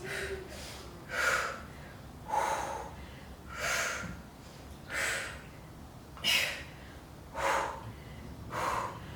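Forceful exhales during a twisting workout exercise, about eight breaths evenly spaced roughly a second apart, each a breathy rushing burst, close and moderately loud with no talking.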